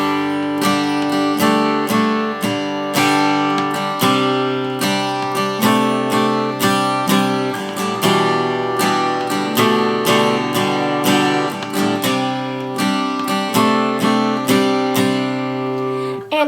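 Acoustic guitar strummed slowly through the chord progression of a song, steady down-strums with clear chord changes, close and loud with no voice.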